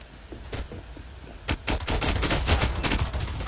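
Gunfire in Counter-Strike: Global Offensive, starting with a few scattered shots and then a dense burst of rapid automatic fire and impacts, loud and close, with no voices.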